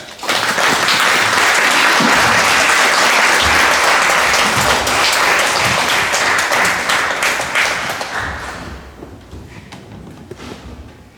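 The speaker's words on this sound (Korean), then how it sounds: "여러분 큰 박수로 환영해 주시기 바랍니다" A church congregation at a Sunday worship service in Vienna claps to welcome a guest pastor. The applause is loud, sustained and full for about eight seconds, then thins and fades into a quiet room.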